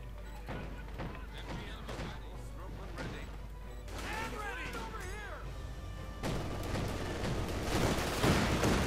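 Rifle fire crackles through a Company of Heroes 2 battle between German Wehrmacht and US forces, with rattling volleys and crashes layered beneath continuous commentary.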